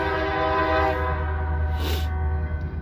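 BNSF freight locomotives work on the Sioux City Subdivision close by, giving a loud steady diesel engine drone with a brief horn blast partway through.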